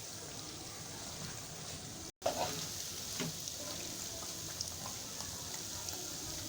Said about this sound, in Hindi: इनको भी उलटते पुलटते अच्छी तरह फ्राई कर लेंगे